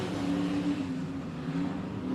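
IMCA Sport Mod race cars running a heat race at Barona Speedway dirt track, a continuous loud engine roar with a droning pitch, no voices.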